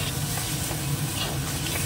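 Ground spices such as turmeric, coriander, cumin and chili powder sizzle steadily in hot oil in a pan, with a continuous close frying hiss and soft scraping stirs throughout.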